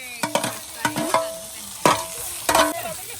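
Spices sizzle and crackle in hot oil as a tempering for mustard-greens saag, while a spoon scrapes and stirs the pan in several quick bursts.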